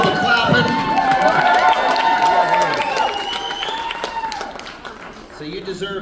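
Concert crowd clapping and cheering at a folk-punk set, steady and loud, with a voice talking over it and guitar tones sounding through the clatter.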